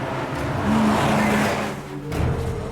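A car being driven fast in an urgent dash, its engine note rising and revving steadily with a brief tire squeal, loud and close throughout with no voices.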